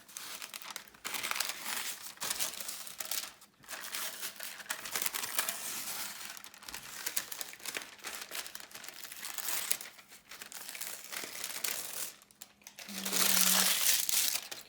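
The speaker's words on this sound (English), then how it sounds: "So, start peeling this off." Paper backing is peeled off Wonder Under fusible web, giving close, crisp crinkling and tearing rustles that come in uneven bursts and end in a louder, brighter rip.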